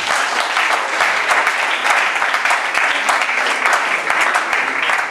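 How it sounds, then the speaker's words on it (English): A church congregation at an ordination and graduation service in Mankessim, Ghana claps together as an offering to Jesus: sustained, energetic applause with rhythmic accents, loud and continuous for about five seconds. "Give you a better clap offering to Jesus."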